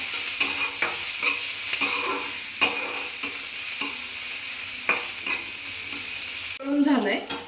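Onion fries in a little oil as it is stirred, for kanda poha on full heat: a loud, close sizzle punctuated by regular spoon strokes against the pan, with a brief clatter at the end.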